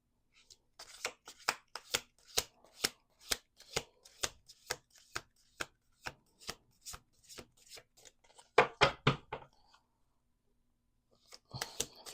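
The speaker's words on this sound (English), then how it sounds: "Let's do two more shuffles" Playing cards are shuffled in a quick series of crisp riffles and taps, steady and rhythmic, followed by a faster flurry and brief silence.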